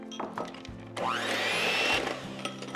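An electric hand mixer whirs loudly as it beats egg yolks for a gluten-free flourless pumpkin torte, starting after a few soft kitchen clatters and running steadily for about a second before winding down.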